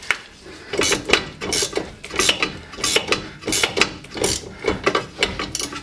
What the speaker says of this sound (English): Right, so I've got the torque wrench. I've had to put an extension on it to get round the disc here.